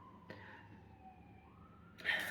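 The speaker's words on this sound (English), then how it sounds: "There's a siren going on." A siren outside wails faintly, its distant tone sliding slowly in pitch before a sudden louder hiss-like burst near the end.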